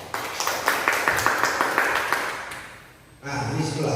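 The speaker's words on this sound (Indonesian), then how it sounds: "Tepuk tangan dulu." Classroom group claps hands during an interactive teaching session, a brisk patter of many hands close by that fades out, followed by a voice speaking.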